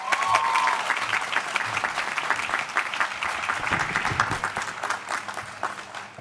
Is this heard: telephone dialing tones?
no